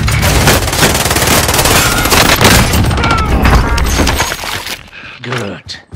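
Heavy combat video game gunfire: dense, loud machine-gun bursts and booming blasts roar continuously for over four seconds, then thin out into scattered shots and a fading whoosh, with radio-style voices talking under the noise.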